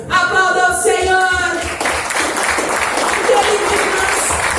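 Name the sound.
applause for the Lord in a church service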